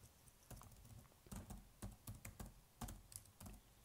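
Quick bursts of typing on a computer keyboard, irregular clusters of close, crisp key clicks with short pauses between, no voices.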